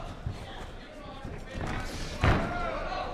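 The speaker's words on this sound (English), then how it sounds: "Hard shot to the body there by Vanderpool." A hard punch lands to the body in a Tachi Palace MMA bout, a single heavy thud amid crowd and commentary noise.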